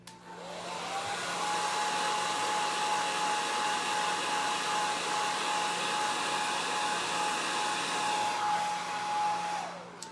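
Hair dryer blowing steadily to dry a transfer, a close, even whine and airy rush that spins up at the start, holds for about eight seconds, then winds down, with no talking.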